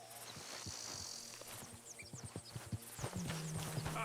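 A horse's hooves clip-clop in an irregular, fairly soft rhythm in Red Dead Redemption 2, with insects chirping in the background and a low tone near the end.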